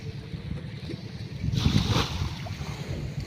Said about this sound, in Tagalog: Ayan na, ang bangka.